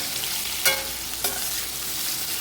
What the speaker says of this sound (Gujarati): બટાકા આપણે સારી રીતે તેલમાં કૂક થાય ત્યાં સુધી આપણે એને રાખીશું.